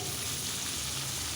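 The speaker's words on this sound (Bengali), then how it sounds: "মাছটা আমি উল্টিয়ে নিচ্ছি অন্য পিঠ ভেজে নেওয়ার জন্য।" Pieces of rohu fish fry in hot oil in a pan, a dense, loud, continuous sizzle heard up close.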